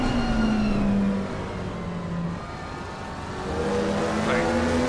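GT3 race cars at Kyalami in Assetto Corsa Competizione, a steady engine drone with shifting pitch as cars pass, rising again near the end, under commentary.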